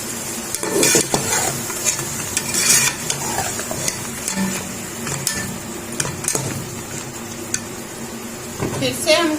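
Lamb karahi with red chilli powder, salt and tomatoes being fried and stirred in a pan, with steady sizzling under repeated clattering spoon scrapes and knocks against the metal, close up, continuing throughout.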